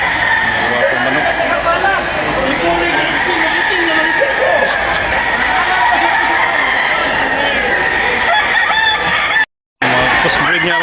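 Gamefarm roosters and fowl crow and cluck amid a busy expo crowd, with people talking and chuckling over the constant bird calls throughout.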